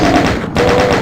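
Rapid automatic gunfire from the video game Doom rattles loudly in a fast burst, briefly cutting out mid-way before resuming.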